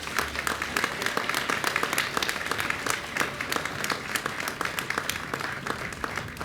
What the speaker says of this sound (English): And I think that's worth a round of applause right there.